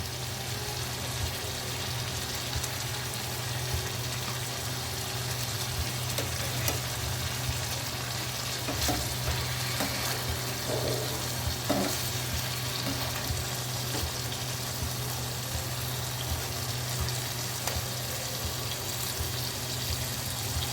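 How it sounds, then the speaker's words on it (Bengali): Sliced eggplant fries in a pan with a steady, close sizzle and faint crackles that run unbroken for about twenty seconds, with no one speaking. "হয়ে গেছে আমার বেগুন ভাজা"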